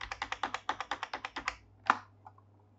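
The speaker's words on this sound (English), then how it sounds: "you can use your shift and arrow keys to select" Quick, evenly spaced keystrokes on a computer keyboard, with shift and arrow keys used to select text in Gmail. About a dozen crisp taps sound close and alone, followed by a pause and one louder final click.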